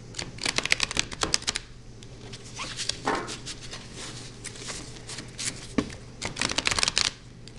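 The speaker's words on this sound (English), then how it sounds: "I'm going to go ahead and shuffle the cards" Tarot cards shuffled softly indoors, a quick run of crisp riffling bursts near the start, a few isolated flicks, then another brisk flurry toward the end, close and fairly quiet.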